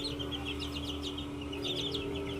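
Boston Roundhead gamefowl chickens cluck softly and repeatedly over a steady low hum, with the birds sounding fairly close.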